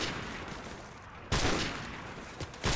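Loud bursts of gunfire in Call of Duty: Modern Warfare Remastered, two sharp heavy shots separated by a pause, then another quick blast, over dense battle noise.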